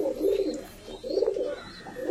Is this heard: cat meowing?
no